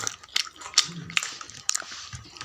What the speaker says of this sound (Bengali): একটু তরকারি খাচ্ছি, একটু রুমালি রুটি খাচ্ছি।